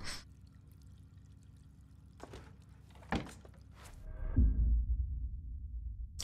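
Toilet flushing and tap water running in the video game Layers of Fear 2, a few faint knocks and clunks, then a swelling low rush of water that carries on steadily.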